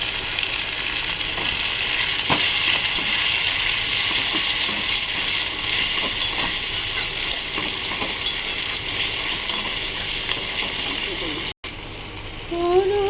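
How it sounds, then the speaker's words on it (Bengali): Tomato and green chilli frying and being stirred in a pan, a dense, continuous sizzle with scattered scraping clicks of the spoon, near and loud; near the end it briefly drops out, then a voice joins over the hiss. "টমেটো দিয়ে লঙ্কা কাটা দিয়ে দিলাম।"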